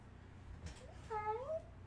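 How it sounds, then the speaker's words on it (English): A house cat meows in a short, rising-then-falling call, fairly close and moderately loud, over a low background hum. "Get your cat to stop."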